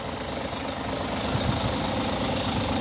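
Euro 6 Scania diesel engine idling in a 2017 Scania K410EB coach with Caetano Levante II body and OptiCruise automated gearbox, a steady close rumble with a slight lift partway, no talk.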